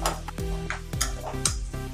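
Onions frying to a light brown in a pan for a toddy palm fruit curry, heard as a soft steady sizzle with repeated close clanks and scrapes of a ladle on the pan, roughly every half second.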